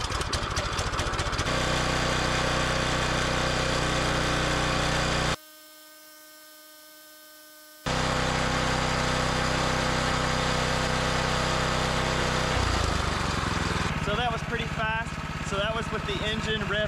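A small engine running an automotive AC compressor rigged as an air compressor hums steadily with a droning tone. It cuts out briefly, then resumes, and the pitch shifts near the end.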